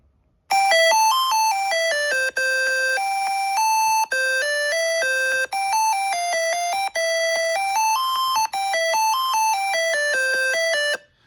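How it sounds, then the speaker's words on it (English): Several bright electronic chime melodies from a smart lock app play one after another, each a short repeating tone pattern with brief gaps between them, loud and clear with no talking. "You have 5 different sounds that your card can make. I'll just play a few of these"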